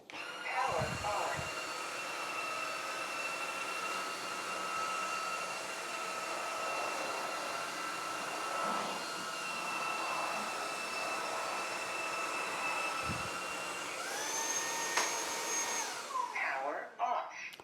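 A Proscenic WashVac F20 cordless wet-dry vacuum running in smart mode across a floor makes a steady droning whine, then its pitch slides and shifts as it powers down near the end.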